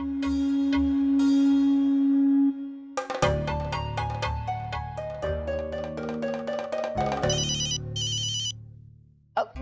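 A phone ringtone plays as a loud melodic chime, a sustained tone and then a run of bright repeating notes, clear and close with no talk over it.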